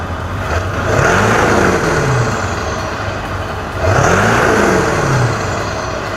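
Ford 7.3 diesel truck with a Hydra chip revving hard twice, each blast rising into a loud roaring whine and falling away, close and loud with no talk.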